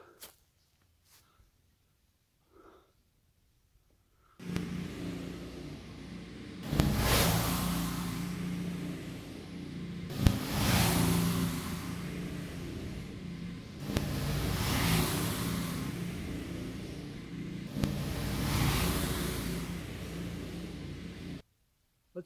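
A vehicle towing a homemade log cultipacker built with old lag bolts and screws, its engine humming and rumbling steadily after a quiet start, with periodic louder surges and thumps, heard alone for about seventeen seconds.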